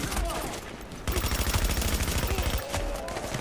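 Rapid automatic gunfire in Tom Clancy's The Division, dense bursts of rattling shots that pause briefly and resume, loud and close, with a voice speaking faintly underneath.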